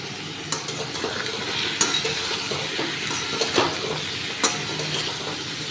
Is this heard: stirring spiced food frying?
yes